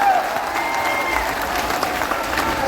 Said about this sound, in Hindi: आप जरा सारे लोग मिलकर जरा तालियां वालियां बजा दीजिए